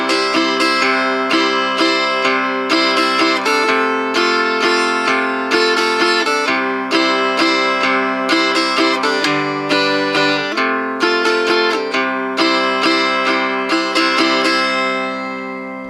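A tenor guitar plays a 12-bar blues in a waltz strum, steady three-beat chord strokes repeating in a clear close rhythm with changing chords, alone without voices.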